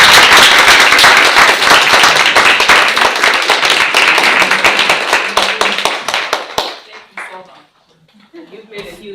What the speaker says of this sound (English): Rose a round of applause